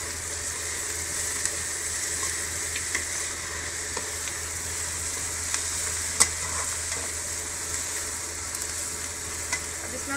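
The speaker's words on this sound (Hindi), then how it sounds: "अब इसमें पनीर डालेंगे और इसको मिक्स करेंगे।" Paneer is stirred into veg pulao in a pan, and a moderate, even sizzle runs beneath occasional soft scrapes and clicks from the utensil, with a low background hum and no speech.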